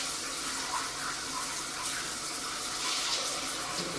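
Cold water runs steadily from a tap, a continuous close hiss and splash with no talking.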